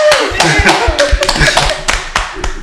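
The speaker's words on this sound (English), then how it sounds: "Are we going to clap? Let's clap." A small group claps for a guest speaker at a talk show recording on Black businesses, uneven sharp hand claps in a loose rhythm close by, with voices talking over them.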